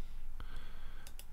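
A few quick computer mouse clicks, short faint taps close by against a quiet background.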